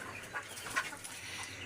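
Chickens cluck and squawk inside a poultry shed, with a few louder calls rising over a steady low fan hum in the background.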